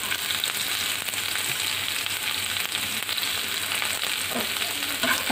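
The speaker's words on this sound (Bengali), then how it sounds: "আমি রসুন পেঁয়াজ আর আদা এগুলো হালকা ভেজে নিয়েছি" Onions, ginger and garlic fry in a pan with a steady, fairly close sizzle and light crackling that carries on without a break.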